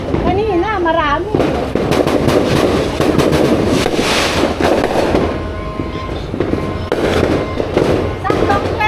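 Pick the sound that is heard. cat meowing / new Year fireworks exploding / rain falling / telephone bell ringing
new Year fireworks exploding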